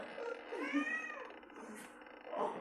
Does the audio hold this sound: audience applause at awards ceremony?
no